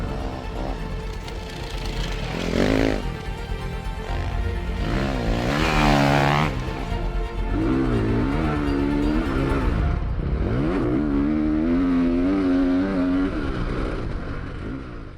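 Ducati motocross bike ridden hard around a lap, engine revving up and down through repeated rising and falling pitch sweeps, loud and close with no talking.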